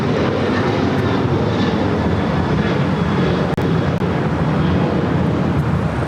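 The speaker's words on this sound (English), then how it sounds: "Next arrival is the China Airlines Cargo 777 freighter." A China Airlines Cargo Boeing 777 freighter arriving at LAX, its broad engine roar steady and loud throughout, with a brief dip partway through.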